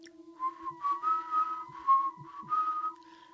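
A storyteller whistles a spooky tune in imitation of whistling heard from outside a house at night, a clear, wavering melody of several sustained notes performed solo with no talk.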